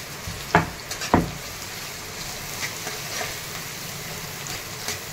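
Onion, tomato, green chilli and curry leaves fry in a pan with a steady, fairly quiet sizzle. Two sharper stirring or tossing clatters come early, and a few fainter knocks follow later.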